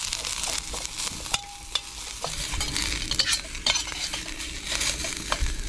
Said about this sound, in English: now I'm going to add my onions